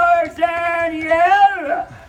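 A voice imitates a Tarzan yell for a wolf character, a loud warbling held cry that rises and falls over about two seconds, delivered close and alone.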